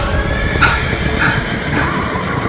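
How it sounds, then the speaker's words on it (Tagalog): A horse in a Tagalog horror story neighs in three short whinnies over steady galloping noise, loud and close, as a sound effect. "kabayo."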